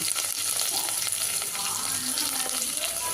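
Ginger garlic paste with curry leaves, coriander and mint fries in hot oil for bagara rice, giving a steady, dense hiss and crackle close up with faint stirring underneath.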